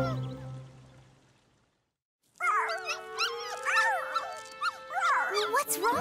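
Cartoon dogs at a dog park whine and yelp in a busy overlapping chorus of high, sliding cries that starts suddenly after a quiet moment, loud and close.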